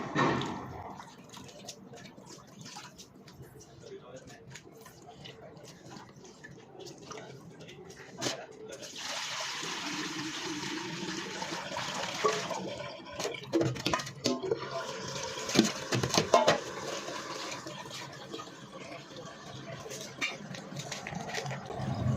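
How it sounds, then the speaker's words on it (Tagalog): Raw anchovies (dilis) being washed in salted water in a kitchen while making homemade bagoong: continuous splashing and sloshing with drips and pouring, growing louder and busier toward the end, with a voice talking over it. "Huhugasan natin ng asin ang ating dilis para iwas lang sa din tayo dyan."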